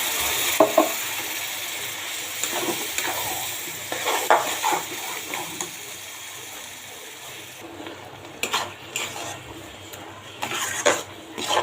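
Spiced masala for an egg and papaya curry frying in a pan while being stirred, with scraping and clinking of a utensil against the metal over a steady sizzle, louder stirring bursts at intervals.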